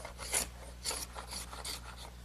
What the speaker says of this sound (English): the first thing I want to do is unclamp the boards and scrape off any excess glue